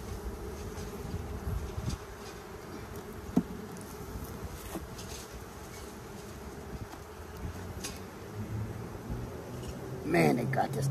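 Honeybees drone steadily around an opened hive during an early spring inspection, a close, continuous buzz, with a brief burst of louder activity near the end.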